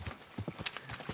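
Horse hooves clip-clop at a steady walking pace in the medieval video game Kingdom Come: Deliverance II, a close run of distinct hoof strikes on the ground with no talking.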